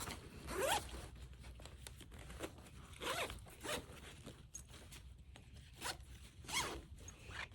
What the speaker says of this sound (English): You're going to unzip the chair. There's the zipper.